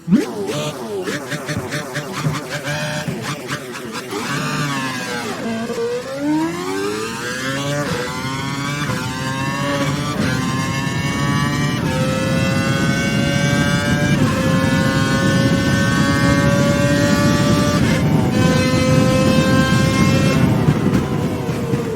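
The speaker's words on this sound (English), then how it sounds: "Head down the track accelerating past 257 kph, then brake so that you come to a complete stop in the designated area." An F1 car engine in the F1 2012 video game, locked to a lean mix, revs hard and climbs steadily through the gears in a long, loud, rising whine down the track with no one speaking.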